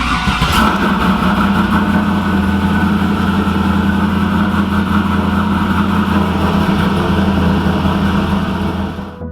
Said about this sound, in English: I'm gonna get the car started here